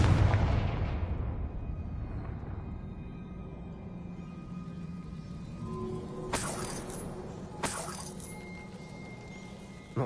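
A Confringo blasting spell explodes in Hogwarts Legacy, a broad rumbling blast that decays over several seconds, followed by two sharp cracking impacts with glassy clinks, no talking.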